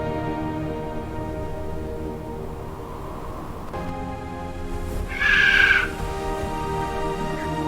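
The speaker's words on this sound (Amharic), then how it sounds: "ኖህ የሰራውን የመርከቢቱን መስኮት ከፈተ፣ ቁራንም ሰደደው፣ እርሱም ወጣ።" A single harsh raven caw rings out near the end over a steady, droning musical background, loud and close but short.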